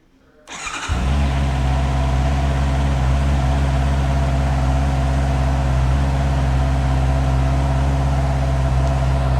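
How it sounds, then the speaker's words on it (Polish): A motorcycle engine starts after a short crank, then settles into a loud, steady idle that runs close by with no talking. "Odpalimy maszynę."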